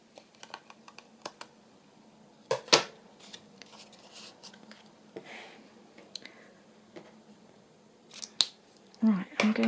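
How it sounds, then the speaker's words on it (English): Scissors trim paper tags up close in a series of soft, crisp snips spread across the moment, with light rustling and a louder handling noise at the end. "let's trim those off"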